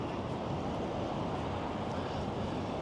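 Running water flows through a storm tunnel channel beneath Las Vegas, a steady, dense rushing wash filling the space without pause, close and continuous with no voices.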